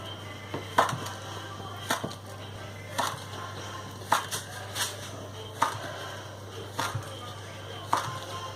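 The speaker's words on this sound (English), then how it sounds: "So then you cut them. So you need a sharp knife for this," A sharp knife makes repeated straight cuts through rolled cinnamon palmier dough, each cut a soft thud against the board at roughly one-second intervals over a low steady hum.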